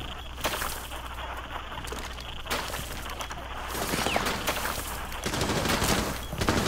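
Gunfire in the tactical shooter Rainbow Six Siege during a bomb match on the Consulate map, with repeated sharp shots and bursts scattered through the scene over steady background game noise.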